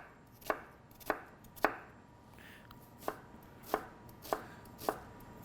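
A knife chopping an onion into quarter-inch pieces on a board, seven sharp, evenly spaced cuts about half a second apart, close and clear in a quiet room.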